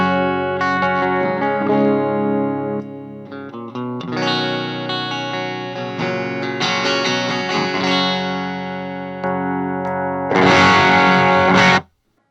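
Electric guitar played through a high-gain mini amp, loud distorted chords and riffs with the pickups split and then unsplit, ending in a brighter, harsher strummed burst before stopping abruptly.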